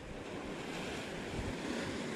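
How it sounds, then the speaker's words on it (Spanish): Small sea waves wash steadily onto the Mediterranean coast during shore spinning fishing, a continuous, fairly close surf hiss mixed with wind noise on the microphone, with no talking. "hace un poquito de olas y esto también es bueno, que no esté del todo calmado"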